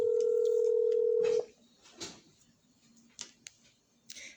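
A steady telephone dial tone hums for about a second and a half while a call is placed to a contributor, then cuts off, leaving quiet clicks and faint handling sounds.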